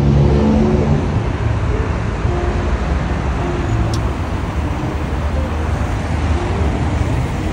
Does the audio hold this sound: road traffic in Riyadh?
yes